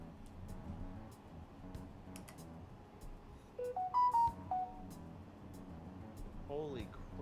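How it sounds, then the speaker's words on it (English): A phone notification chime, a short bright run of rising and falling tones ringing out loud over a quiet room hum, with a voice talking before and after. "The phone notification is loud."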